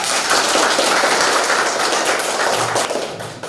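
University students in an education class burst into loud, dense applause that holds steady for several seconds before it starts to thin out at the end.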